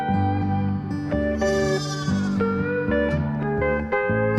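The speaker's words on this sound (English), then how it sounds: "Sheep." A sheep bleats repeatedly in a series of wavering, nasal calls, loud and close, with short gaps between the cries.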